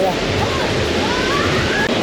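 Water surging and rushing on a stormy coast between Koh Phangan and Phuket, a dense, loud, continuous roar of surf mixed with wind over the whole stretch.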